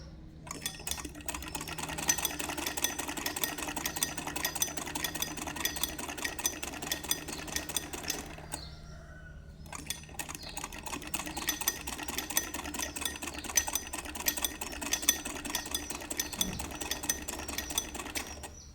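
A sewing machine runs a long continuous seam on a shalwar, a steady close mechanical whir with rapid stitching rhythm, pausing briefly midway before resuming to the end.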